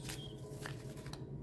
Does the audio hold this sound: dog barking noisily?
no